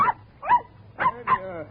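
A dog whimpers and yelps four times in quick succession after being picked up by the scruff of the neck, close and fairly loud, from an old-time radio drama.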